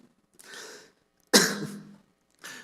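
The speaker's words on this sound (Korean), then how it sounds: "제가 기침을 하니까 여러분 두려워하시는데 물 먹다가 사례가 걸렸습니다." Three harsh coughs in a row from an elderly man choking on water, the middle one loudest and sharpest, separated by brief silences.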